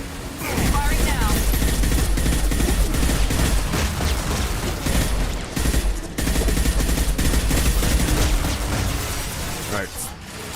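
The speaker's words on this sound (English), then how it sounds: "Firing now." Rapid gunfire rattles through a Mass Effect Legendary Edition firefight, dense bursts of shots and impacts running almost nonstop and loud, with a brief lull near the middle.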